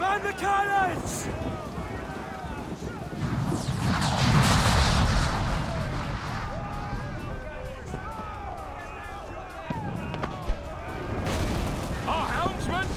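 Ship cannons boom in a naval battle in Assassin's Creed IV: Black Flag, with heavy blasts and rumbling impacts mixed with shouting voices, crashing debris and battle clamor throughout.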